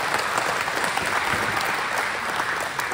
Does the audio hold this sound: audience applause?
yes